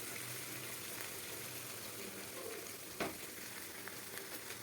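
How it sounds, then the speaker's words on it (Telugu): Stuffed eggplant curry (gutti vankaya) cooking in hot oil, a low, even sizzle carrying on throughout, with slow, gentle stirring and one brief clink of the spoon partway through. "గుత్తి వంకాయ వంకాయలు చీలిపోతాయని నేను నెమ్మది కలుపుతున్నానండి."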